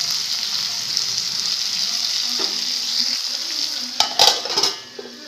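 Salted eggplant poriyal fries in a pan with a steady close sizzle, broken near the end by a few clattering stirs and scrapes.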